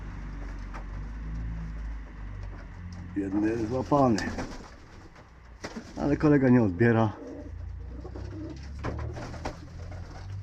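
Pigeons coo softly in the background while someone talks nearby, his voice rising over the birds in two short stretches.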